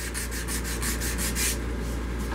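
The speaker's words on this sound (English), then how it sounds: "All right, I'm just sanding." Steady, close sanding on a solid wooden mug spinning on a lathe, a continuous abrasive hiss with a slight rhythmic pulse from the hand moving back and forth over the humming machine.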